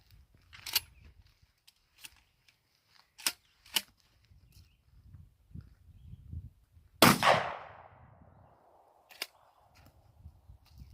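A shotgun fires a custom shell loaded with silly putty, one loud close blast at about seven seconds with a ringing tail, set among softer scattered clicks and handling knocks.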